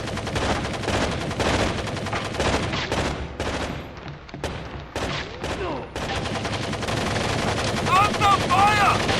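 Gunfire in Tom Clancy's Rainbow Six 3 on PS2, with rapid machine-gun bursts and repeated shots crackling loud and close, broken by brief pauses, with battle sounds behind.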